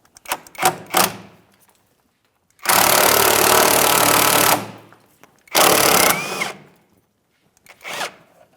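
Power tool with a 15 mm socket loosening the spare tire hoist mounting bolt on a 2007-2014 GMC Sierra 2500 HD, heard as short rattling taps and then two loud, close, sustained whirring bursts, followed by a brief final burst.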